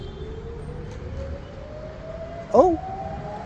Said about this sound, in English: It's a siren, a bomb siren, or I don't know.